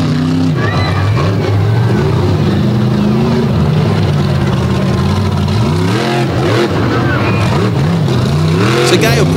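Monster truck with a GMC body revving hard at a live show, loud and continuous, engine pitch climbing and falling, under an announcer's voice.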